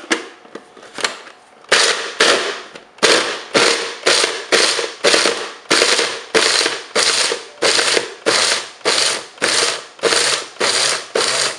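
A small food processor grinds dried meat into powder for pemmican in repeated short pulses, each a loud whirring, rattling burst about half a second long, in a steady rhythm with brief gaps between them.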